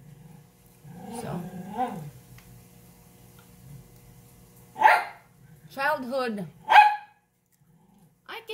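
A dog barks and growls indoors while someone cooks with an air fryer, a few clustered barks and a low growl separated by pauses, close and moderately loud.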